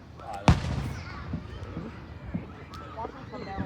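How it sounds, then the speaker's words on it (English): Fourth of July fireworks reach their grand finale. One sharp, loud bang stands out near the start, followed by fainter distant pops while people chat nearby. "I think the fireworks are going to the grand finale"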